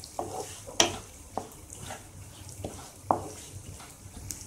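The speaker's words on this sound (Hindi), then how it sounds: "तब तक हम इसे रेगुलर इस तरह से चलाते हुए भून लेंगे" Moong dal roasting in ghee in a pan while a spoon stirs it, giving soft, sparse scrapes and light clinks at a steady, unhurried pace, close and fairly quiet with no talk.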